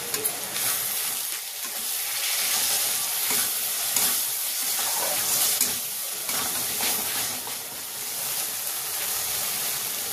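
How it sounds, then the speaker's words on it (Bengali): Spice paste with a splash of water fries in oil for fish jhuri, a loud bubbling hiss with steady stirring and scraping strokes, close and uninterrupted for several seconds. "এই সব মশলাটা ভালো করে কষে নেব, যাতে মশলার গন্ধ না থাকে"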